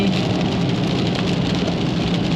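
Steady rain falls heavily on a rainy day commute, a dense continuous hiss with a low engine rumble from a nearby car underneath, constant and loud throughout with no pauses.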